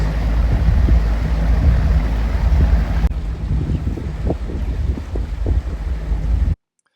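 A 1975 Sidewinder 16 SS boat with a 90 Johnson outboard runs on fresh water, its low engine drone and hull rush heavily buffeted by wind noise before cutting off abruptly near the end.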